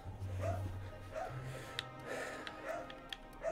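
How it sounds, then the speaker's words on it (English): Dogs in The Outer Worlds barking and yipping in short repeated bursts over a low droning game background, moderately loud and steady throughout. "Fella's making the dogs go ape shit right now"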